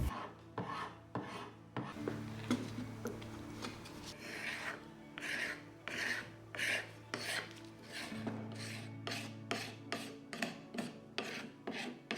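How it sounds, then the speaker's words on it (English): Painted coffee table legs scraped with a detail scraper and a cabinet scraper, a rapid series of close, rasping strokes in an uneven rhythm over a low steady hum. "To scrape the legs, I'll use the detailed scraper set along with the cabinet scraper"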